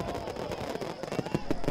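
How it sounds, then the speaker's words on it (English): Fireworks crackle and pop in a rapid, irregular series of bursts set against a dense background, for a Halloween fireworks display on the Island of Sodor. "They love the Fat Controller's fireworks."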